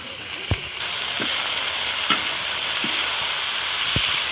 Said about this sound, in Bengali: আমি ভালো করে ভেজে নেবো এগুলো।